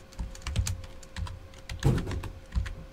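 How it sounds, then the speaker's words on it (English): Rapid keystrokes on a computer keyboard as team names are entered, irregular clicky taps in short bursts, close by and fairly quiet with room tone behind. "I just gotta type every, just gotta type them all in"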